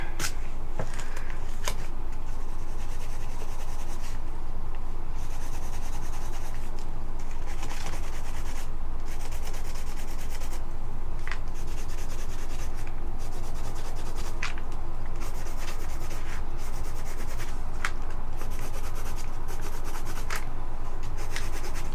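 Steady scratchy rubbing of colored pencil on journal paper, continuous and close, with small irregular strokes and occasional sharper scrapes throughout.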